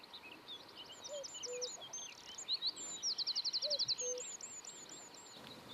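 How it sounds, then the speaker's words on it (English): Cuckoos calling on Dartmoor among bluebells: two faint, distant two-note calls rise over a busy layer of high chirps and rapid trills from other songbirds. "With so many cuckoos calling"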